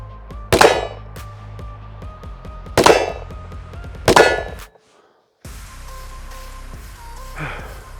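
Three loud, sharp gunshots from a Smith & Wesson Performance Center M&P 10mm pistol, spaced about two seconds apart, each ringing out with a metallic clang before a brief silence and faint handling noise.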